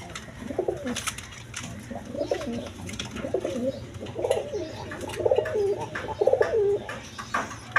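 Giribaz pigeons coo repeatedly in a rhythmic series of low throaty calls, close and fairly loud against a steady background hum, with faint chirps and no talking.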